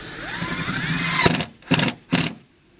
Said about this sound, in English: now I can take my drill and the screw and go ahead and run it in here